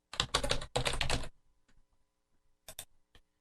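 Rapid keystrokes on a computer keyboard come in two dense bursts of typing, then a few scattered clicks after a short pause, all close and clear with no voices.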